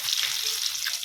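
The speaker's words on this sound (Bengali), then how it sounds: "এবার আমি আলুটা ভেজে নিচ্ছি।" Potato pieces, tinted with biryani colouring, frying in hot oil for a home-style chicken biryani, giving a continuous close, bright sizzle that stays even with no talk.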